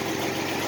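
A car engine idles on a cold start with an exhaust leak on the passenger side, giving a brief, steady and close rumble with no pauses.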